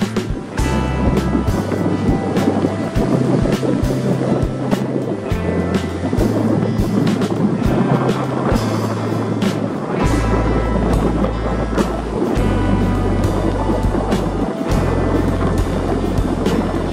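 Strong onshore wind roars on a winter Sea of Japan coast, a dense continuous rush blending with crashing surf, steady and loud with no talk.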